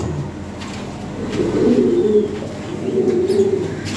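Lahori Sherazi pigeons coo close by in two rounds of low, throaty rolling calls, the first swelling in the middle and the second following shortly after, with no voices.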